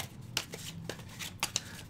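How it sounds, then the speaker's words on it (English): A deck of board game cards for Under Falling Skies is shuffled by hand, giving a close, dry riffling flutter with a few sharper snaps as the cards fall together. "I am going to randomly shuffle these."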